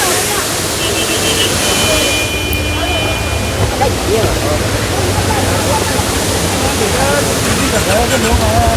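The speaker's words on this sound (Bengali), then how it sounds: "এটা এখন বলে ওয়াটারফলস রয়েছে, যখন বেশি ঠান্ডা পড়বে এটা জমে যাবে।" Waterfall near Gulmarg, Kashmir, in cold mountain country, pouring as a steady broadband roar of rushing water throughout, close and loud, with faint voices of visitors underneath.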